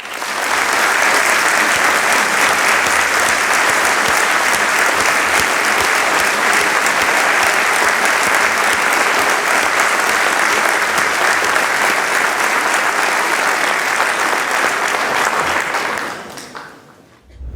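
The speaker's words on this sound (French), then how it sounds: "je vous demande quelques applaudissements" Sustained applause from an audience at a mayor's New Year address in Cusset, honouring firefighters who battle forest fires; dense, even clapping fills the room for about sixteen seconds before fading out abruptly.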